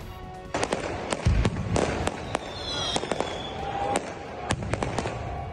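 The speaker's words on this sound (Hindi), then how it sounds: "कारकुनान ने जश्न मनाया और आतिशबाजी भी की" Fireworks at a victory celebration outside a winning candidate's residence in Johar Town, Lahore: a string of sharp, cracking bangs at irregular intervals over a steady crowd murmur, some bursts close and loud.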